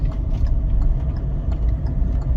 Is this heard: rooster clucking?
no